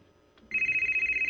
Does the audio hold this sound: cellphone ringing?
yes